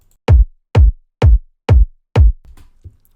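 Five deep, punchy electronic kick drums with two layers thump in an even beat, each with a booming low tail, followed by faint trailing sounds.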